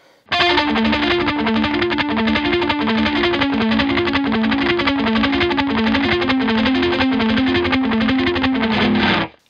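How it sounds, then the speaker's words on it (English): Distorted electric guitar chugs out fast, palm-muted repeated notes with a quick echoing delay pedal, creating a steady pulsing, stuttering rhythm throughout. "combine the delay pedal and palm muting with the chords"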